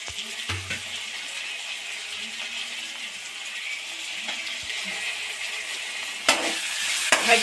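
Chopped tomatoes, coriander and mint fry with golden-brown onions for a chicken curry, giving a steady sizzle under clinks and scrapes of stirring, with a sharp clatter near the end.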